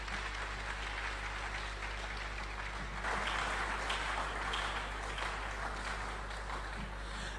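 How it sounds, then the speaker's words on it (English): A conference audience applauds faintly at a distance, soft continuous clapping that swells a little midway, with a steady low hum beneath it. "Another round of applause for Honorable Kennedy Agyapong."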